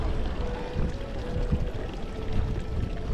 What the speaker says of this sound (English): This water fountain right here.